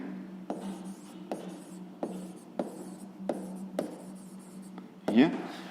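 Chalk or marker writing on a school board in a sixth-grade math lesson, repeated short strokes tapping and scratching in bursts, heard close over a quiet room, ending with a louder rub.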